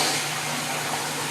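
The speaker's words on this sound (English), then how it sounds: "you add 6 cups of hot water" Hot water being poured into a pot on a stovetop, a steady close rushing stream of liquid with no gaps.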